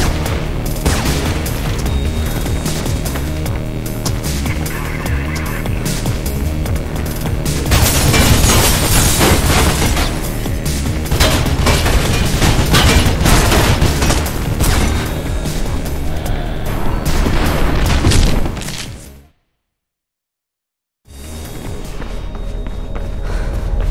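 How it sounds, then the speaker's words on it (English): Dense, continuous gunfire and explosive booms from the Mirror's Edge video game, with footsteps running through a loud, busy mix that drops to silence briefly before resuming. "Vin, you have a goddamn machine gun."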